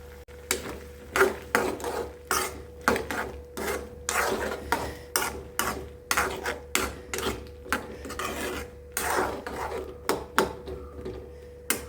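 Chinese potatoes (koorkka) with chili, turmeric, curry leaves and salt are stirred in a cooking pan, giving a steady run of close, rhythmic scraping strokes with no talking.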